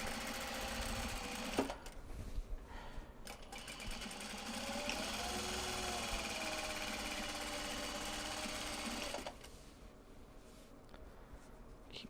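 A sewing machine top stitches, running in a steady close mechanical hum and rattle for about nine seconds before stopping, leaving a quieter background, with no talking.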